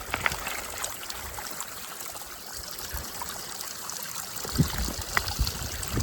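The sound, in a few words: mountain stream flowing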